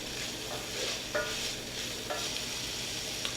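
Burrito filling sizzles softly in a pan as salt and pepper are stirred in, a quiet steady fry with a few light scraping strokes of the spoon.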